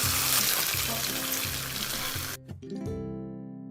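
Tofu frying in a pan on medium heat, a continuous close sizzle for most of the stretch that drops away abruptly near the end, leaving a brief clatter and quiet ringing tones.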